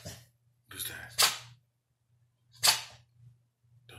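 Gunshot sound effects from a TV play near dogs in a home, sharp single cracks sounding twice a little over a second apart, mixed with a short dog whine and a person talking quietly.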